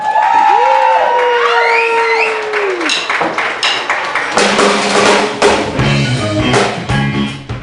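Applause and cheering ring out from a bar concert audience. A long, swooping whistle rises at the start, and then dense clapping and shouts build and carry on loudly right to the end.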